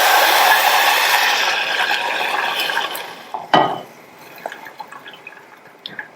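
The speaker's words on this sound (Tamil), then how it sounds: "இந்த ஜவ்வரிசி முங்குற அளவுக்கு இதுல தண்ணி சேர்த்துக்கலாம்." Water is poured into a hot pan of roasted sago for payasam, a rushing sizzle that fades over a few seconds, followed by a splash and scattered small drips and bubbling.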